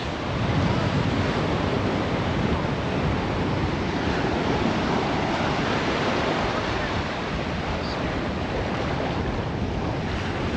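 Ocean waves wash steadily onto a beach, a broad continuous roar mixed with heavy wind buffeting the microphone, loud and unbroken throughout.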